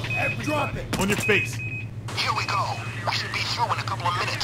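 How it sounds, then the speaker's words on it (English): An alarm sounds during a bank heist in the video game Payday 2, a steady electronic tone droning under loud shouting voices. "That's the alarm, guys."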